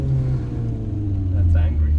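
A GT Line car's engine holds a steady, loud low drone inside the cabin, with a slight swell near the end, while people talk over it.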